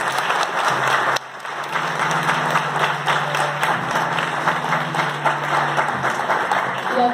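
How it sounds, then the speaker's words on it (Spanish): Audience applause for a soloist at a tribute concert, dense steady clapping from a crowd, loud and sustained, with a low musical hum running underneath. "pido un aplauso anticipado"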